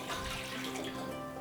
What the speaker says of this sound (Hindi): गर्म होने के वक्त मैं इसमें डालूँगी आधा लीटर पानी